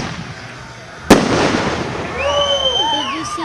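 A single firework bursts with a sharp, loud crack outdoors at an evening festival, followed by crackling and people talking nearby.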